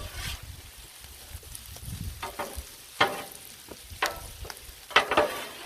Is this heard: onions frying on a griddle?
yes